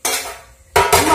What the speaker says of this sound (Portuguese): Uma panela aqui.